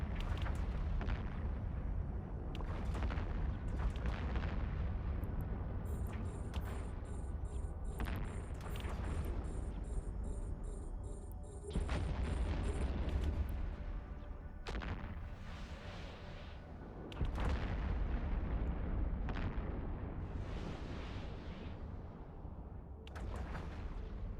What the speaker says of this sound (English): I like the new explosion effects.